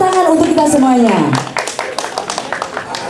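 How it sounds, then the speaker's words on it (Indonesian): A voice speaks over a short stretch of audience applause at a company reunion gathering, followed by scattered claps from the room. "Tepuk tangan untuk kita semuanya."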